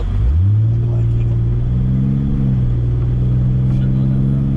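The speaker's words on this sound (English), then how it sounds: "this is my first time watching the car drive away" A 1996 Toyota Supra with a 2JZ engine pulls away, its deep exhaust rumble rising in pitch through the revs and then settling into a steady drone, loud and close, with talk over it.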